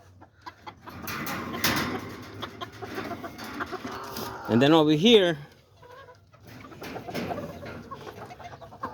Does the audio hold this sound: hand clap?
no